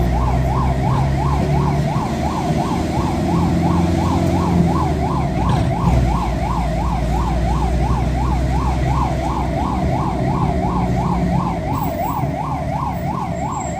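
A loud wailing ambulance siren cycles rapidly up and down in a steady pattern, with a vehicle engine rumbling underneath, at night near Balasore medical college after the Coromandel train accident.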